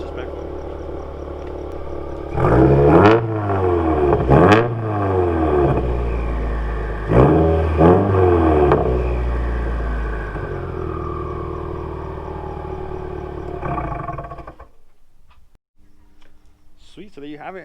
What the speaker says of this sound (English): Alright, so I'm gonna do a couple revs, not too loud